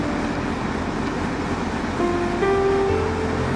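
Sea surf at Manila Bay washes in as a steady, dense rush, with a low droning tone joining partway through and holding to the end.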